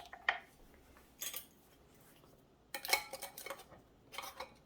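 A metal canning lid and band go onto a hot jar of pickled jalapenos and are screwed down, making a few quiet metallic clinks and scrapes in short, separate bursts.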